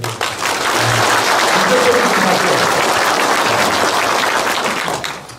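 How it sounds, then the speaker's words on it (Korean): An audience at a police lecture in South Jeolla breaks into applause, a loud, steady wash of many hands clapping that swells quickly, holds for several seconds and tapers at the end, with faint voices underneath. "박수 한번 쳐야 되겠습니다"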